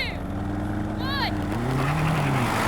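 An Audi RS7, a BMW M8 and a Mercedes GT 4-door drag race side by side. Loud, close engines roar and climb in pitch as the cars accelerate, with a brief whining sweep partway through.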